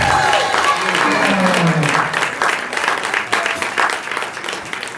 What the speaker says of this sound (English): would you please give a great round of applause to Dee Edwards